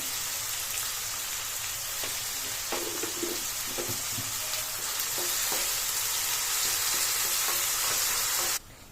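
Tomatoes fry in oil with salt for an egg masala gravy, crackling and sizzling steadily up close. Scattered scrapes and clicks of stirring break in before the sound cuts off abruptly near the end.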